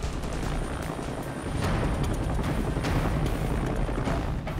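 A rescue helicopter hovering high over a beach to lift a patient, its rotor and engine a loud, dense, continuous roar with rhythmic blade thumping, filling the clip without pause.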